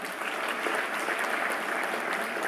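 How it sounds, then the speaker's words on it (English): Sustained, dense applause from a conference audience at the inauguration of ICAS-VIII, a steady wash of many hands clapping at an even loudness throughout, with no speech over it. "Please give him a big round of applause,"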